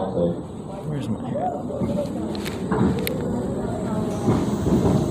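A roller coaster train at Six Flags Great America rumbles back into the station, a low rolling clatter beneath continuous talk from a ride operator over a loudspeaker.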